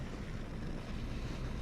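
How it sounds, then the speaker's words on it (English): Baking soda and vinegar reacting in a lab setting, giving a steady, close, continuous fizz and hiss of bubbling that holds evenly throughout, with no voices. "So as we do that, you can see we got bubbling,"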